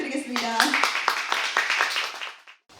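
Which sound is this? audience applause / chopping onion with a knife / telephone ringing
audience applause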